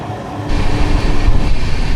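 A train pulls out of Okha station in Gujarat on a foggy morning, a steady low rumble and rattle of the rolling carriages growing louder after a quieter first moment, with no voices.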